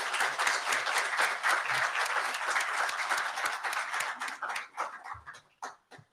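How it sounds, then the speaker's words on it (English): An audience applauds at a civil rights event, with dense, sustained clapping from many hands that thins out to a few scattered claps at the end. "Let's give him a round of applause."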